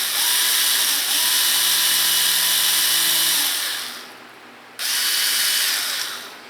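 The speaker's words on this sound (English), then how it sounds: "So that's drilled through all the way" A small power drill bores a hole through a cast part of a 1:300 scale SeaQuest DSV model kit, whining steadily. It stops briefly, then starts again for a second short burst.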